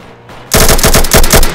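An NLK M13 gun in a video game fires a loud, close burst of rapid automatic shots in an even rhythm, about a dozen rounds cutting in after a brief low hum.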